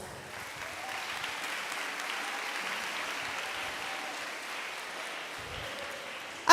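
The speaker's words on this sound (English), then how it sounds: "So please give sixth graders also a very big applause." A school audience at a student day event applauds sixth graders, a modest, steady patter of clapping from a roomful of people, fairly soft and even throughout, ending in a sudden loud bump at the very close.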